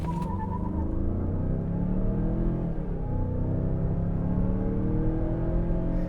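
A 2022 Mazda CX-9 SUV accelerates hard from a standstill toward 60 mph, its engine note a steady, loud rising drone with rumble that builds continuously, heard from inside the cabin with no talking.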